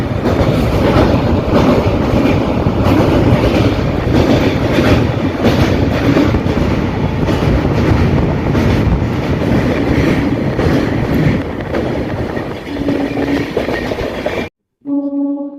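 Rolling rumble and rhythmic clatter of the Darjeeling Mail, running on the Sealdah to New Jalpaiguri route and heard from inside a general coach, loud and steady throughout, ending with a brief tonal horn-like burst after a cut.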